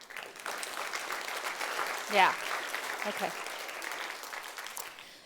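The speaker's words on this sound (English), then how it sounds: "We can applaud that," A conference audience at a CUSP 2013 talk applauds with steady, dense clapping, and a brief voice is heard over it.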